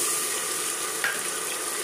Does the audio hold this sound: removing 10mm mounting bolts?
no